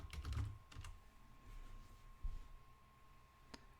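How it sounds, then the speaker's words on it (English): Password typed on a computer keyboard during a Linux system install, a short run of close, quiet key clicks followed by a few isolated taps, with no voices. "Give it our password."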